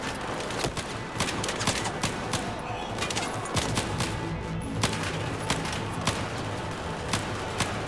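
Rifle fire in the Battlefield 4 campaign crackles as rapid single shots mixed with distant bursts and thumping impacts, loud and continuous throughout.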